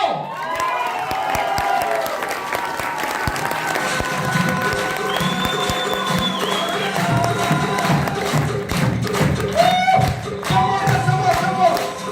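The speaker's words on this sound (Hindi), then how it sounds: "जबरदस्त हम लोग तालियां बजाएंगे, चीखेंगे, चिल्लाएंगे" An audience claps and shouts together in a dense, steady roar of applause and cheering that carries through the whole stretch, with voices yelling over it and a faint musical tone threading underneath.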